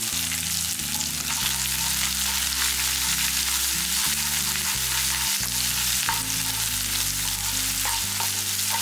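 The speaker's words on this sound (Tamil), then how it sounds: "இதில் ஒரு 3 பல்லு பூண்டு வந்து தட்டி வச்சுருக்கேன், அதையும் போட்டுக்கலாம். ஒரு கைப்பிடி அளவுக்கு சின்ன வெங்காயம் போட்டுக்கலாம்." Crushed garlic cloves and a handful of small onions fry in a pan for a country chicken curry, with a steady close sizzle and occasional stirring scrapes. Background music plays throughout, and no voices are heard.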